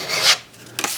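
Drywall knife scraping setting-type joint compound over a drywall patch in two short, close rasping strokes separated by a brief pause.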